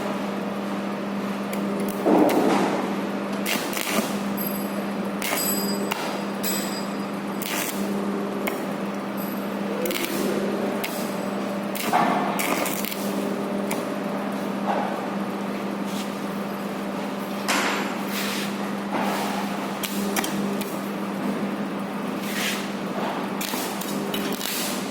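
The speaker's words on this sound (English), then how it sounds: "let's see how this welding can be done on the workpiece." Shielded metal arc welding with a stick electrode on a metal workpiece, a steady close crackling and buzzing arc hiss that runs continuously, with a few brief louder pops and sputters.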